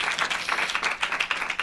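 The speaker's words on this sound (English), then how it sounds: "So what I'd like to do is take just a moment to have us kind of applaud all three at once," A conference audience at a poetry night claps for three poets, a brief burst of close, lively applause with distinct individual hand claps.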